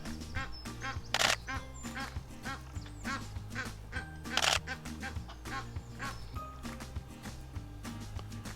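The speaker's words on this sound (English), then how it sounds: "just spotted a pair of Egyptian geese, and they've got their chicks with them" A pair of Egyptian geese with their chicks give repeated honking, quacking calls at moderate distance, spaced irregularly with two louder outbursts, while a camera shutter clicks occasionally.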